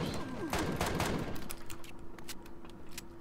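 Rapid gunfire in the space survival game Empyrion: Galactic Survival, a dense burst of shots aimed at an enemy, loud and close, followed by scattered single shots and game effects.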